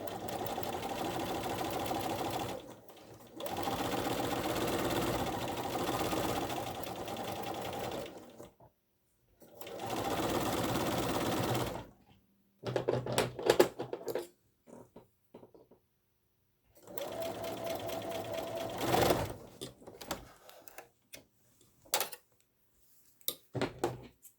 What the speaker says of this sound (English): now I will sew down one side